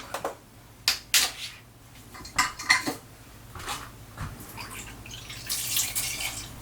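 A spoon stirs melting chocolate and soy milk in a pan, with repeated close scraping and clinking strokes against the metal, coming in irregular bursts.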